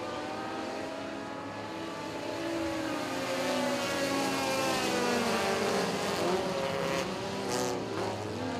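A dirt-track race car roars past at Magnolia Motor Speedway during a Hot Shots feature, with a loud sustained engine drone that swells and fades, heard alone without talk.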